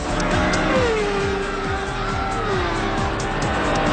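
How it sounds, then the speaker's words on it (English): A cartoon race car speeds along during a race, its engine roaring loud and close, the pitch rising and falling through gear shifts over a constant high-speed whine. "That car of his must be using jet fuel."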